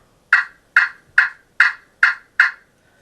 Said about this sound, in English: I find the slate call to be pretty realistic sounds and fairly easy to use